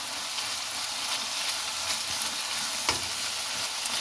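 Minced chicken sizzles steadily in a pan with ginger garlic paste, a dense, continuous crackling fry with faint stirring scrapes, close and loud with no talk.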